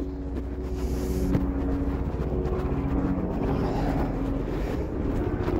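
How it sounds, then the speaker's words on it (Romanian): A helicopter flying overhead outdoors, a steady mid-distance engine and rotor drone mixed with wind buffeting on the microphone. "Hei, elicopter."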